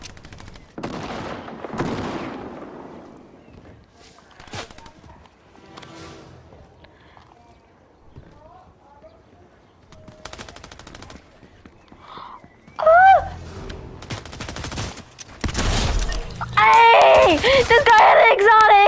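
Fortnite gunfire in a chaotic fight, scattered loud shots and bursts spread across the clip, heavier toward the end, with players shouting and talking excitedly over it.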